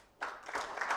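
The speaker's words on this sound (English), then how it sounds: "if you turn your back and just applaud them" A conference audience at a G20 governance and development session breaks into applause that starts abruptly and builds into moderate, fairly close clapping.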